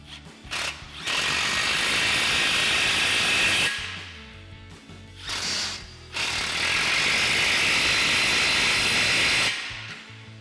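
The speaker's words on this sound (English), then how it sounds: "Now we can tighten down our 2 muffler outlet clamps with our 15 mil socket on our impact." A pneumatic impact wrench with a 15 mm socket hammers down the muffler outlet clamps on an F-150's MBRP Armor Lite dual exhaust, two long loud rattling bursts of several seconds each, close up with a brief blip between.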